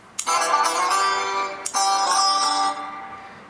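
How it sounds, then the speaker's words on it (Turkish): A Turkcell T40 phone plays a bright, melodic ringtone loud and close, with the tune starting over once partway through and then fading out. "çeşitli zil sesleri var. Türkiye'ye özel, İstanbul özel çeşitli zil sesleri var."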